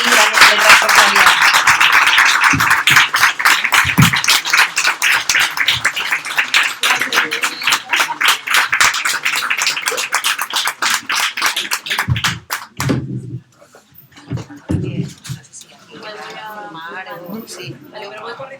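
An audience bursts into dense, sustained clapping that fills the room for about twelve seconds and then fades into scattered claps, with people talking as it dies away.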